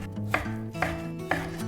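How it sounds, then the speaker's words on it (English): Bacon being chopped into bite-size pieces on a cutting board while preparing kimchi fried rice, with three sharp knife strikes roughly half a second apart, near and clear. "Cut the bacons into bite size."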